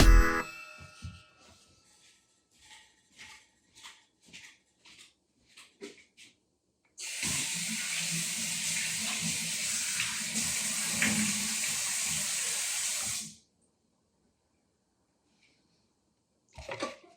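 Soup is washed off hands under a running tap: soft shuffling and light clatter first, then a steady loud gush of water for about six seconds that cuts off abruptly, followed by quiet.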